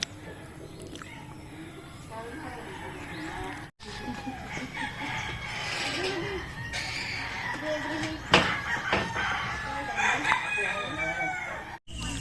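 Rooster crowing at a family home in the Philippines, a native Bisaya chicken, its long rising calls repeating amid farmyard clucking, with people talking throughout.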